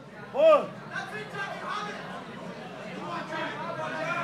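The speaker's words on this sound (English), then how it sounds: "Solid advice called out from the crowd." Spectator's shout rising from the crowd at a Cage Legacy 11 cage fight between Kenny Mokhonoana and Jack Hamill, a brief loud call near the start over steady background crowd chatter.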